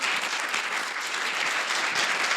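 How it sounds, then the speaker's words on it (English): Steady, continuous applause from a forum audience for the panelists, dense and even throughout with no break in the clapping. "please just give a round of applause to our panelists again"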